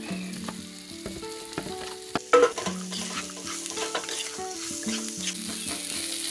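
A spatula stirs spiced potato and cauliflower in a frying pan, sizzling steadily with repeated scraping strokes and a few sharper knocks against the pan, close and clear with no talking.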